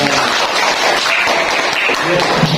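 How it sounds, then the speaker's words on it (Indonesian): Applause from a classroom audience, a steady dense patter of many hands filling the whole moment at close range, with voices mixed faintly underneath. "tepuk tangan buat gue"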